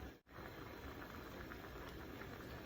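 Dumplings boil in a pot of water, giving a steady, close bubbling and rushing hiss that stays even and fairly quiet throughout.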